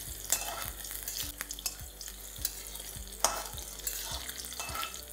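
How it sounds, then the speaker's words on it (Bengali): Brinjal pieces fry in hot oil over a high flame, a loud continuous sizzle broken by repeated clinks and scrapes of stirring, with no voices. "জাস্ট হাই ফ্লেমে এটাকে একটু লাল লাল করেই ভেজে নিন।"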